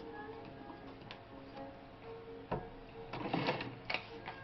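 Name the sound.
Singer 401G sewing machine stitching through folded fabric layers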